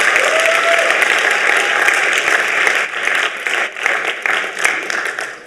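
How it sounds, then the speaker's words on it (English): A crowd applauds loudly and steadily at the 2023 Action With Africa Challenge final, dense clapping that holds for several seconds before it begins to thin and flutter toward the end. "a big round of applause for your dedication"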